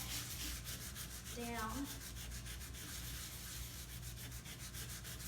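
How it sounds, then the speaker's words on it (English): Light sandpaper rubbed by hand over a painted wood table to smooth a paint ridge, a soft steady scratchy rasp running through most of the clip, with a brief voice near the middle. "I'm going to use just some light sandpaper and just smooth that"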